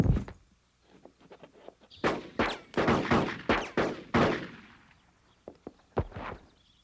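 A volley of gunshots rings out in a western film as a gang of men open fire on Gentry, with sharp loud bangs in quick succession and scattered fainter shots before and after.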